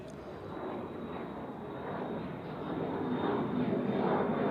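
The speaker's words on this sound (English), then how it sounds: "The Lufthansa with an A319." A Lufthansa Airbus A319 passes on a foggy day at Zurich Airport, giving a steady jet engine roar that builds gradually, with a thin whine riding above it and no voices.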